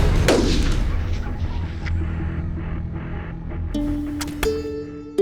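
A single loud rifle shot on a long-range hunt in Montana cracks close by, followed by a rolling boom that echoes and fades over several seconds.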